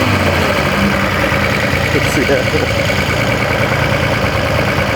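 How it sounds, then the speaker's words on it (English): A rough, loud carbureted Nissan L series engine idles steadily with a deep lumpy rumble throughout, while a voice speaks briefly over it. "Oh my god, these L series really do sound amazing."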